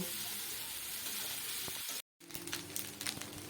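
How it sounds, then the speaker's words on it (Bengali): Boiled pasta fries in a pan over a medium gas flame, giving a steady soft sizzle that cuts out briefly, then returns with scraping stirring clicks and taps, fairly quiet. "পাস্তা ভালো করে নেড়ে চেড়ে 5 থেকে 7 মিনিটের জন্য ভেজে নেব"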